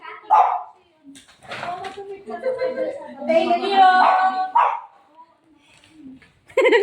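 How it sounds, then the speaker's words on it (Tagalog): A dog barks in short bursts while several people talk and chatter nearby. "Ba't yung aso ko? Ang ingay."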